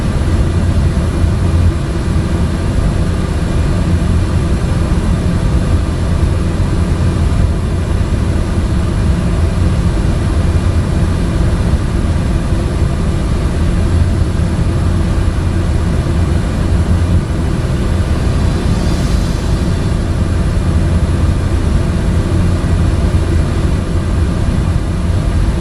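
Steady, loud engine roar of a light aircraft taking off from runway 19 in Microsoft Flight Simulator over Mozambique, a continuous low drone holding evenly throughout with no talk.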